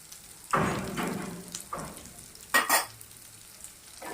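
Chopped onions and green chilli sizzle in hot oil in a pan, with a few close scraping stirs of a spoon breaking through the steady frying hiss.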